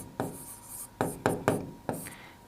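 A pen writes on paper during a Class 10 maths lesson, making a few short scratchy strokes in quick, uneven bursts, close and fairly clear, with no talk over them.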